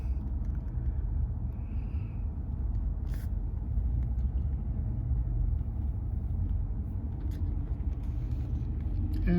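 A loader carries soil over to a truck at a garden soil yard, its steady low engine rumble running continuously and fairly loud throughout, with no talking.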